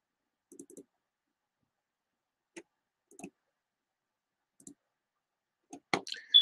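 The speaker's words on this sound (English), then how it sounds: "I'm going to click on it." A computer mouse gives a handful of sparse, quiet clicks, some single and some doubled, in a silent room. A slightly louder flurry of clicks comes at the end.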